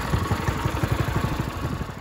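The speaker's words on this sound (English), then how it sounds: "So engine runs. Sounds pretty good." A Ryobi 3100 PSI pressure washer engine, recently repaired after a clogged carburetor, runs steadily at close range with a rapid, even low-pitched putter and light mechanical clatter throughout.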